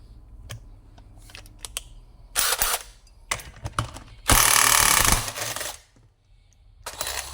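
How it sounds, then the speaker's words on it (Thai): Hand tools work on a chainsaw flywheel during engine disassembly. Scattered metallic clicks and ratcheting bursts come close by, with a loud clattering stretch in the middle and quiet pauses between. No one talks. "เดี๋ยวผมถอดจานไฟก่อน"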